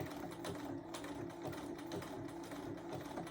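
A sewing machine stitching fabric for a mug rug runs steadily and close by, a continuous rapid mechanical whir and needle patter at an even moderate pace with no voices.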